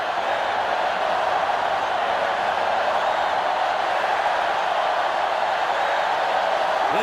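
A stadium crowd roars in the NCAA Football 2005 video game on GameCube, a steady, dense wash of crowd noise holding at even loudness from start to finish with no clear talk over it.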